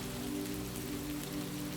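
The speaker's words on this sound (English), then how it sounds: "the rain continued its patient patter" Rain patters steadily on Nuremberg's city streets at night as an even, continuous hiss of drops, with a soft sustained low tone underneath and no voices.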